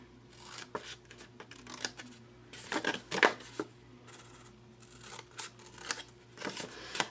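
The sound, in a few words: cutting up to a 1-inch mark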